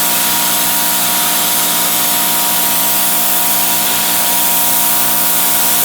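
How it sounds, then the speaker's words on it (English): A Greenworks PRO 2200 electric pressure washer fitted with a whirlybird rotating sprayer blasts continuously, a loud, close, steady hiss of spray over a faint motor hum. "That's the little whirlybird sprayer."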